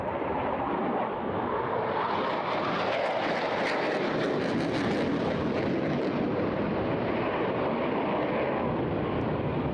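Eurofighter Typhoon jet in a flying display at an airshow, pulling tight high-G turns; a continuous, loud roaring engine wash that swells in the middle and holds throughout.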